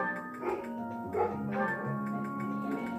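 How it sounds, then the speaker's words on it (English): Dogs barking and yipping indoors, several short barks and whimpers layered over a steady tonal background with musical game audio, at moderate loudness. "And the dogs are barking, great."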